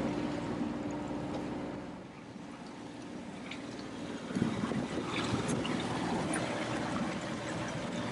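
A boat motor runs on the Strait of Juan de Fuca on a calm day: a steady, fairly quiet drone with low hum and wind-and-water wash, briefly dipping then swelling again.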